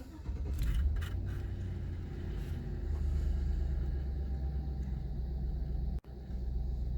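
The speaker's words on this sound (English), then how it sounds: "Turn the car on." Chevrolet Tahoe engine heard from inside the cabin, a steady low rumble running throughout and briefly cutting out near the end before resuming.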